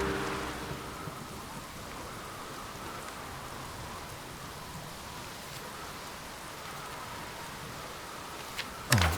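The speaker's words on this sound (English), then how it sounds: "Of course it would start getting stormy now." Stormy weather in a video game: a dense, steady hiss of heavy rain runs throughout, with a sharper crack of thunder breaking in right at the end.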